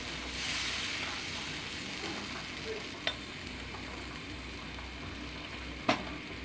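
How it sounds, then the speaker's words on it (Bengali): Spice paste and water for a pabda fish curry fry and bubble steadily in a pan, a soft continuous sizzle with two sharp spatula clinks against the pan partway through and near the end. "দিয়ে এবার এটাকে আমি ভালো করে একটু কষিয়ে নিতে হবে।"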